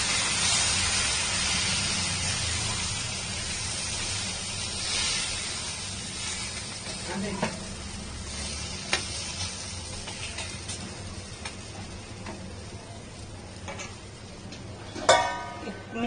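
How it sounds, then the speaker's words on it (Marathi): Bottle gourd cheela frying in a pan, a steady broad hiss of sizzling batter throughout with a few faint clicks and knocks of utensils. "छान गोल्डन होईपर्यंत त्याला मस्त असं क्रिस्पी भाजून घ्यायचं."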